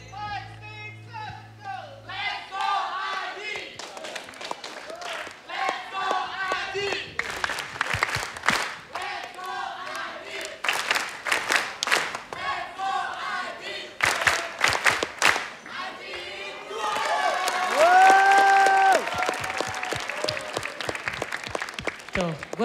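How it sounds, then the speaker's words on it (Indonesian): A TV studio audience applauds and cheers for a cheerleading group, in bursts of clapping and shouts. Talk and music play loudly over the noise, which swells toward the end. "Kita kasih tepuk tangan dulu dong buat Crown All Star."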